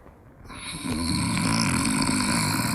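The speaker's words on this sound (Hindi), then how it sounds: "I hate snoring." A person snores loudly and steadily in a bedroom scene from a Bollywood comedy, a rough, continuous rumble that swells in after a quiet start and carries on alone without speech.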